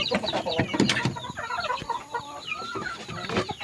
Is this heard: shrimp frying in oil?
no